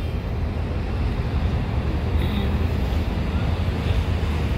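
Gentle, calm sea waves lapping at a Hong Kong seaside, a steady broadband wash of surf with some wind noise on the microphone, continuous and fairly close, no talking.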